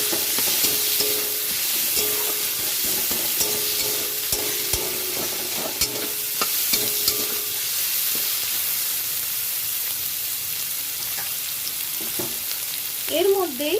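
Chopped onions sizzle steadily in hot oil over a dried-chilli and bay-leaf tempering for a jackfruit and prawn curry, with occasional stirring clatters; a continuous close, loud frying hiss runs throughout with no talk.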